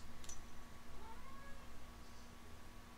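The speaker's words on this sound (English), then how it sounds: "My cat's gonna come interrupt." A house cat gives a faint, brief meow near the start, with a quiet steady hum continuing underneath.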